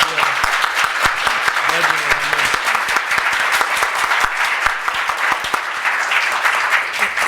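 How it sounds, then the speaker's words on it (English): A steady, loud round of applause from an audience at an MLK prayer breakfast, with dense continuous clapping throughout and faint voices underneath. "So let's give her a round of applause."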